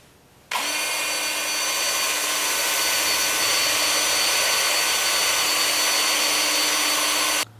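A live edge alder bowl being sanded at a workbench with a power sander: a loud, steady whirring hiss that starts abruptly and runs unbroken for several seconds before cutting off, with no voices.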